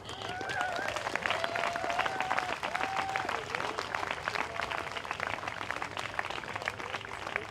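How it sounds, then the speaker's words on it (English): A crowd applauds a disabled rebel speaker at an Extinction Rebellion protest festival, sustained clapping from a distance with faint voices and some tonal whistles or calls layered over it. "So give her a round of applause."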